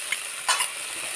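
Onions sizzle faintly in a pan as ginger garlic paste is added, with a brief stir or scrape in the middle of this short moment.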